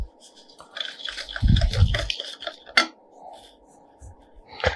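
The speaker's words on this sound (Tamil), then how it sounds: "இதை நல்லா மிக்ஸ் பண்ணிக்கோங்க." Sugar being stirred into an egg mixture in a bowl for a chocolate marshmallow payasam, giving soft clinks and scraping of utensil against bowl with a low thumping burst midway, close and fairly quiet, no voices.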